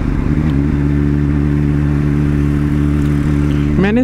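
A Kawasaki H2 motorcycle engine revs hard and continuously up close, its drone stepping through quick gear upshifts by quickshifter with no throttle lift, ending in a rising rev surge.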